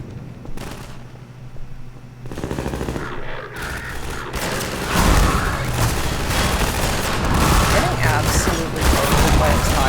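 Half-Life 2 firefight: a grenade blast followed by dense, continuous bursts of gunfire and booms, loud and chaotic, with a voice talking over the action.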